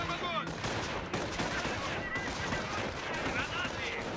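Dense battlefield gunfire in the real-time strategy game Company of Heroes 3: rapid overlapping rifle and machine-gun bursts with sharp cracks, continuous and loud throughout, with voices shouting beneath the shooting.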